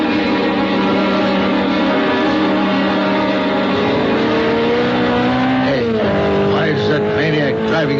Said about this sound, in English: A sports car looked like a Simonetti. I couldn't tell. Went by me too fast.